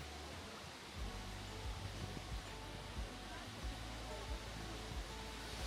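Steady broadband rush of Hongjecheon waterfall in Seoul, loud and continuous, with faint low thumps and murmuring voices beneath.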